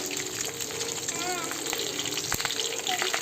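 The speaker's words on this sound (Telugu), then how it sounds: "అందుకే నూనె చిట్లుతాను చూడు." Oil spatters and sizzles on a stove during frying, a continuous crackling hiss with a sharp pop partway through, while a voice talks over it.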